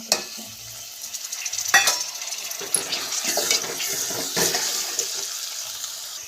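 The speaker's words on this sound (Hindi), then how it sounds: "अब इनमें मैं टमाटर डाल रही हूँ" Tomatoes drop into sizzling ginger-garlic paste in a pan for a sweet potato curry, a close frying hiss with sharp spitting bursts and stirring clatter that grows busier after the first couple of seconds.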